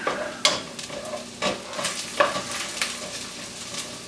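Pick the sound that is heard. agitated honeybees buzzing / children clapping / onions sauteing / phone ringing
onions sauteing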